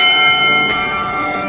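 A bell rings out from a street, a loud, sustained metallic tone with long ringing overtones that hang steadily through the moment.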